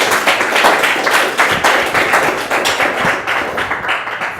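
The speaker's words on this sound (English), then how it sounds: "So let's give him a round of applause." Audience applauding at a tutoring awards ceremony, a dense, steady wash of many hands clapping close by for the full length, with no talk over it.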